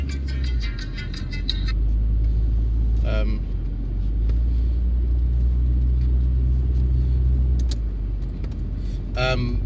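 A car engine idles steadily after sitting unused for seven weeks, with a deep, continuous rumble throughout, joined by a few brief clicks and rattles near the start and end.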